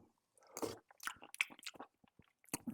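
Close, quiet bites and chewing while tasting homemade Scotch broth with lamb and leftover vegetables, a few separate crunchy mouth sounds with short pauses between.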